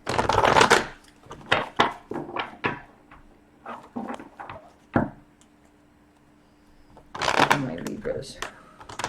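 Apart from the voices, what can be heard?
shuffling tarot cards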